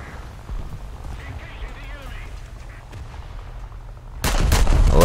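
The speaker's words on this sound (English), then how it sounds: "Secondaries are ranged in on this Russian battlecruiser." Battleship secondary guns firing in the War Thunder naval game; someone talks over a low rumbling battle bed until a burst of loud, close booming shots breaks in near the end.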